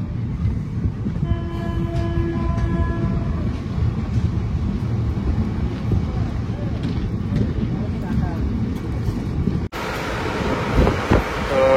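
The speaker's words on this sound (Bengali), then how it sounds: "ফাইনালি আমাদের ট্রেন এসে দাঁড়ালো" A train pulls into a station with a loud, continuous rumble of wheels on rails, a brief horn early on, and voices talking over the noise.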